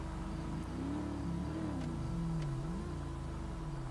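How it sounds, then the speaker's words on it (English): A police cruiser engine in a video game revs with a steady rumble, its pitch rising and falling in several swells over a continuous low drone, loud and close with no talk. "feel my ears rumbling when I turn this car on"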